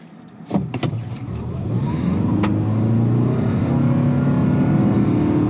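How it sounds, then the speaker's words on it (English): A 2019 Toyota RAV4 Hybrid launches at full throttle on loose gravel, its engine and drivetrain building from a few sharp clicks into a loud, steady, rising roar with crunching gravel underneath throughout. "we're just gonna go from the brake pedal right to the gas. To the floor."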